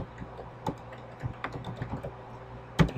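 Keys tapped on a computer keyboard while entering a password, a sparse run of soft clicks at uneven intervals with one sharper keystroke near the end, close and alone over a faint background hum.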